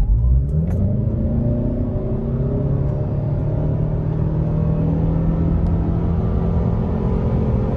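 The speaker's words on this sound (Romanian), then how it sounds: "hai să facem o lansare" A 2022 Lexus ES accelerating hard from a launch, its engine a loud, steady rumble that builds smoothly throughout, heard from inside the cabin with no voices.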